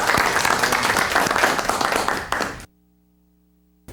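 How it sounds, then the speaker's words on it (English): Board members applaud a round of applause for being owners, dense clapping heard close for about two and a half seconds before cutting abruptly to silence. "for that, I want to give you all a round of applause."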